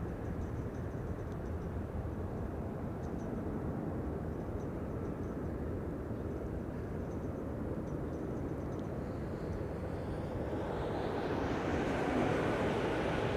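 A Martinair-liveried aircraft at Amsterdam Schiphol, a steady distant roar of engines with wind rumble, rising and brightening toward the end as the plane gets closer.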